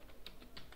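Someone types at a computer keyboard, a few quiet, distinct key taps in an uneven rhythm, faint and alone without talk.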